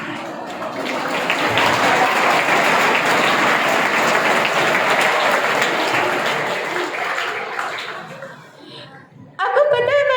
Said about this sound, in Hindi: आपको पता है आपकी ये तालियां क्या बता रही है